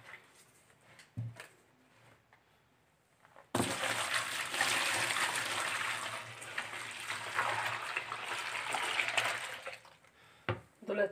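Water from a container is poured in a steady rushing stream into a homemade dishwashing-liquid mixture for several seconds, with a few clunks of handling before and after.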